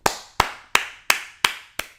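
Six slow, evenly spaced single hand claps ring out close and crisp, each with a short decay, the rhythm steady at about three claps per second.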